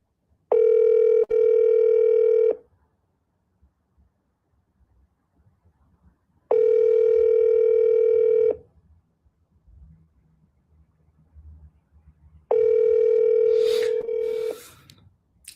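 A WhatsApp call ringing tone sounds as three loud, steady tonal bursts of about two seconds each, separated by quiet gaps, with faint background noise in between.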